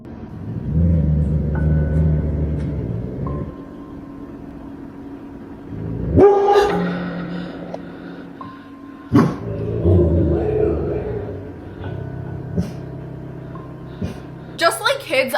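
A dog barks inside a home in Alabama, a few sharp bursts standing out over background talk and household rumble in a recorded home video.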